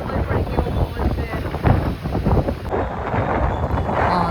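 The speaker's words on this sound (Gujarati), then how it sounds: "નાખે ને એવો પવન છે અત્યારે. તમને બતાવું." Strong stormy wind blowing during heavy rain, a loud continuous rushing roar buffeting the microphone throughout, with no talking.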